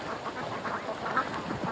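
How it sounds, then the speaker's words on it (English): Ducks quacking in agitation as a drone hovers over the water, a dense run of overlapping calls with no talking. "So the poor ducks were just like freaking because I was like literally playing with the drone"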